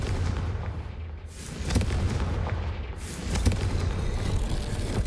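A Confringo blast spell goes off in a Harry Potter video game, heard as a deep rumbling boom with crackling bursts and a sustained low roar that swells again midway, loud and alone without speech.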